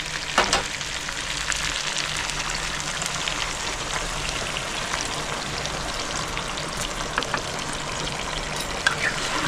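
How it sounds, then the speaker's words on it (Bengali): Chicken leg pieces in a pan, with a bowl of raw milk just poured in, are stirred over a steady close hiss of sizzling, broken by occasional light scrapes and pops; nobody speaks. "দিয়ে আমি ভালো করে মিক্স করে নিচ্ছি দুধটা দিয়ে।"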